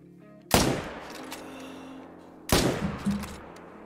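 Two loud gunshots in a hunting video game, aimed at a Malamute, each sharp crack trailing into a long echoing decay, spaced about two seconds apart.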